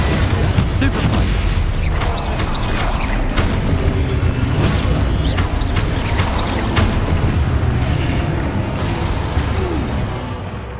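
Spell combat in the video game Hogwarts Legacy, with a dense stream of sharp blasts, booming impacts and clattering hits packed closely together and staying loud throughout, along with raised voices.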